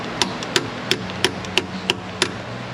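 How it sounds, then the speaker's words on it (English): An easy-out socket is hammered onto a broken exhaust manifold stud on a Dodge Ram 1500 5.7 Hemi, giving seven sharp metallic strikes at a steady, quick rhythm, close and clear. "I'm gonna try to pull that stud out with an easy out. A little socket device that hammers onto it"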